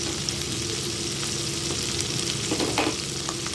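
Onions, green chillies, ivy gourd and tomato for a curry frying in a pan, a dense continuous sizzle close up with a few stirring scrapes toward the end.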